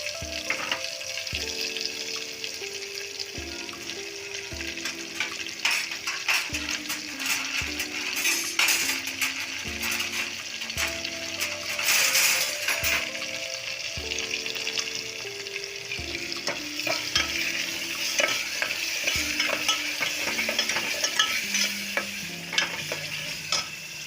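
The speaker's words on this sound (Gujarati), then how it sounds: "હવે આપણે જે મિક્સ કરેલું છે તેને આમાં નાખી દઈશું અને પ્રોપર હલાવી દઈશું." A spoon stirs a mixed potato and rice mixture in a sizzling pan, with repeated scraping strokes and light metallic clinks over a steady frying hiss, close and continuous, with no talking.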